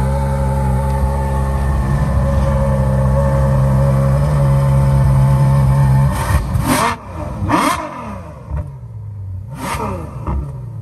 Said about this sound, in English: You mind giving it a little rev?